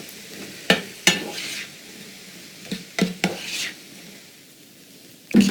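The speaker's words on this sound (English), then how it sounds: "Start sauteing these up." Vegetables sauteing in vegetable broth in a pan, with a few sharp stirring clatters and short bursts of sizzle between quieter stretches, close by and with no talking.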